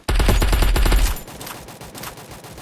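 Rapid automatic gunfire in a shooting video game, a loud close burst of about a dozen shots in quick rhythm that stops abruptly after a second, followed by a quieter tail.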